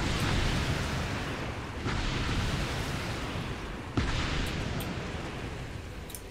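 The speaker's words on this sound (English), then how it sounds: "I like how I can't really see the explosions, I just sort of hear it and see some light" Explosions in the video game Earth Defense Force 5 rumble as a dense, continuous roar, with a few sharper blasts breaking through at intervals and no voices over them.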